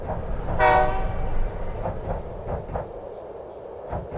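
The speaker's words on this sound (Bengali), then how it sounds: "ধানবাদ থেকে ট্রেনে ফিরছিলেন সুজন" A train moving along the rails, with a loud horn blast near the start followed by a steady rumble and faint rhythmic clatter fading into the background.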